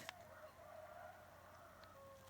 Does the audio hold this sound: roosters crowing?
yes